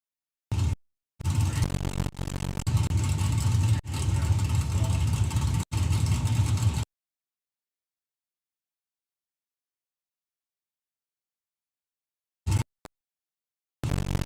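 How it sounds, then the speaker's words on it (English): A Dark Horse Mustang and a ZK Datsun launch down a drag strip at an Easter Nationals meet. A loud engine roar lasts about six seconds, then drops to silence, with brief distant bursts near the end. "Lee Huxley with the Dark Horse Mustang, dialing in 870. And it's Bob Doyle with the ZK Datsun"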